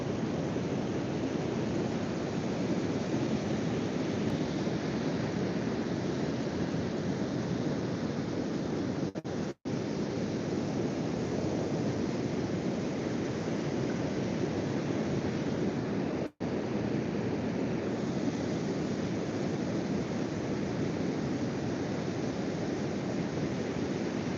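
Ocean surf breaks at 7 Mile Beach, Gerroa, NSW, a continuous broad roar of waves mixed with wind buffeting the microphone, with no voices and two brief dropouts.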